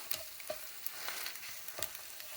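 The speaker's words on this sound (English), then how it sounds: "You can tell based on that sizzle that most of the moisture is out now." Eggs and spinach sizzle steadily in a hot pan while being cooked for a dog's breakfast, a continuous crackling fry with a few sharper pops and scrapes of stirring, close and moderately loud, no voices.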